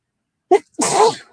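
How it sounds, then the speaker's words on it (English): A single close, loud sneeze: a short intake burst followed by a forceful, breathy explosive sneeze that trails off. "You know what? I'm going to sneeze."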